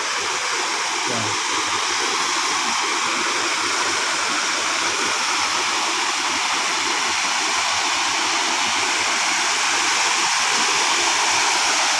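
A stream rushes steadily beside a waterfall, a loud, continuous broadband wash of water with no pauses.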